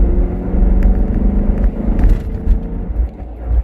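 A BMW E92 M3 running E85 flex fuel pulls hard in 4th gear, its engine a loud close rumbling drone that swells and then eases toward the end.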